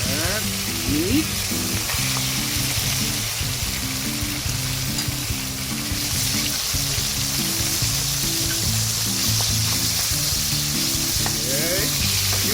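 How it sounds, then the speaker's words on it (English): Meat sautéing in hot oil with doubanjiang for an eggplant dish, a loud continuous sizzle with rhythmic stirring scrapes throughout, close up and without talk. "You have to saute meat first"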